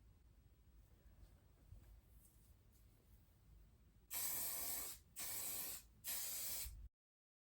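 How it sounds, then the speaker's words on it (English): After a quiet stretch, three loud, close bursts of aerosol spray hiss out, each lasting about a second with short pauses between. "I'm gonna add texture spray."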